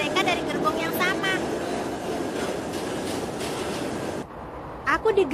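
A steady rumbling roar of a moving train in the anime Hunter x Hunter fills the scene, with voices talking over it and the noise dropping briefly near the end.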